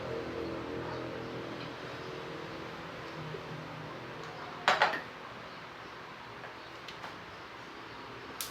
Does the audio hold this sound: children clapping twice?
no